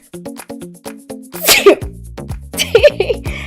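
A single loud sneeze bursts out, followed by a shorter second sneeze, after a series of short rhythmic electronic tones.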